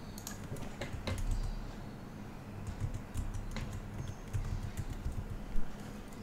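Typing on a computer keyboard, a quick irregular run of soft key clicks, close and quiet, with no one talking.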